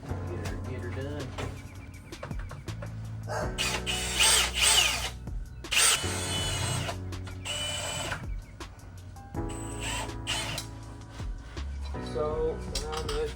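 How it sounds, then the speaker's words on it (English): A power drill notches the mounting points on a motorcycle in a home garage, running in several loud, sustained bursts of a few seconds each, separated by quieter pauses with background noise. "So I'm gonna go ahead and do that with the drill."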